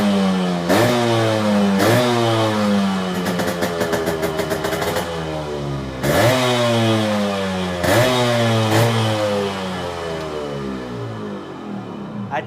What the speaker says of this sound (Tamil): இப்போ இந்த வண்டி இன்ஜின் பீட் சவுண்ட் காட்டுறேன்.